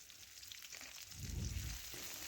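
Chopped onion frying in oil with dried chilli and whole cumin, a faint soft sizzle with a low rumbling stir midway, quiet and close.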